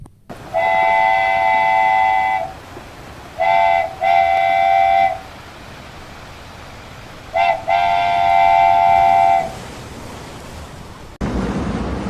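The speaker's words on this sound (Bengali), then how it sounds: "ঠিক এমন সময় ট্রেন আসার শব্দ শুনতে পেলাম" In an animated cartoon, a train horn sounds in three long blasts over a steady rumbling roar of the train arriving at a station, loud and close, no voices.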